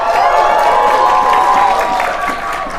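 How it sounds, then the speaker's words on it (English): A live-show crowd at PAX East 2017 bursts into loud applause, whoops and shouting, a dense roar of clapping and voices that holds steady and then thins slightly. "applause shout for Lapras."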